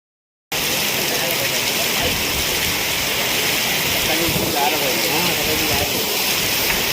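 Heavy rain pours down in Shringartali, Guhagar, a loud, dense, unbroken hiss of water that begins abruptly and holds steady for several seconds.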